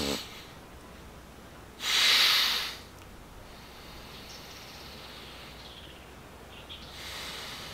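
Pranayama breathing through the nostril during a Chandra Nadi moon-breath exercise: one loud, hissing nasal inhale or exhale of about a second, then quieter airy breathing against a soft background hiss.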